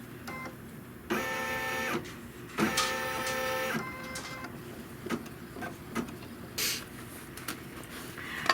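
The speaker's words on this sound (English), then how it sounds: "what it's going to stitch now are the registration marks" An embroidery machine stitches registration marks on a Kimberbell trapunto pillow project, its needle running in short mechanical bursts of rapid whirring with quiet pauses between, close and clear with no talking.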